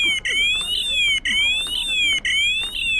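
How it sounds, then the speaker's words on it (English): An anti-theft alarm goes off nearby, sounding loud, piercing electronic tones that sweep in pitch and repeat roughly once a second, with brief gaps between cycles. "there's an alarm going off"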